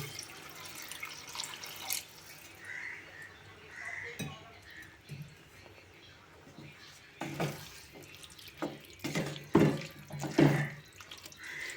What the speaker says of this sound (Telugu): ఇప్పుడు సరిపోయినంత వాటర్ పోసుకుందాం